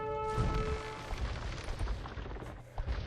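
Naval battle in Age of Empires II: The Conquerors, warships firing on a fire ship, with dense overlapping booms and crackling impacts over a low rumbling bed, near and loud throughout.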